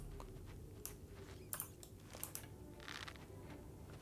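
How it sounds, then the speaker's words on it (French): Sparse, quiet clicks of keys being tapped on a keyboard, in irregular little clusters against faint background hum. "J'espère que ça ne vous dérange pas le bruit de mon clavier."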